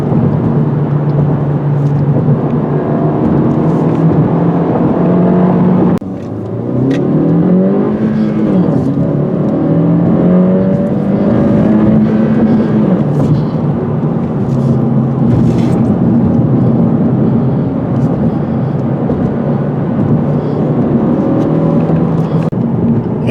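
A 2022 Honda Civic Si with a six-speed manual revs hard on a twisty mountain road, its engine note loud and close, climbing through the rev range with a brief dip at a gear change.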